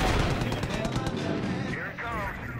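Gunfire in Far Cry 5, a rapid, loud rattle of machine-gun bursts blending into a heavy roar, with a voice briefly heard over it.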